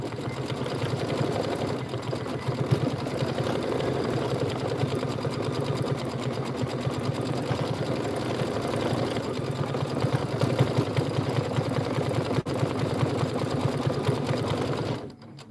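A sewing machine stitches a quilt block in one long, continuous run, its rapid rhythmic needle chatter and motor hum steady and close throughout before cutting off at the very end.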